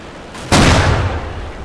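A single loud gunshot in the World War II shooter Red Orchestra, a sharp close blast halfway through with a booming tail fading out, no voices.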